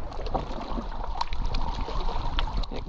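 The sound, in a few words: water lapping against limestone rocks at harbor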